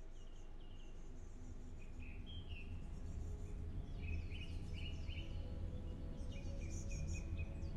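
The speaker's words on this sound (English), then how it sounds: "I hear birds." Birds chirping and twittering in the video game Metro 2033 Redux, a dense chorus of calls over a steady low hum, continuous and moderately loud with no talk.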